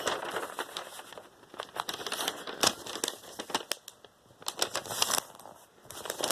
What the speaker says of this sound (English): So for the whale, you want to fold the piece of paper in half.